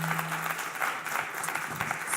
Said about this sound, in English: So Give Chef Nikki a round of applause.